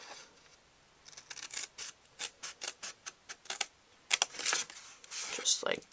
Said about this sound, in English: I'm cutting up to that first line.